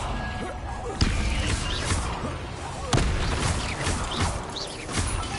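In Hogwarts Legacy, Confringo fire spells explode in a dense barrage of booming blasts with sharp cracks of impact around one and three seconds. A voice calls out over the din.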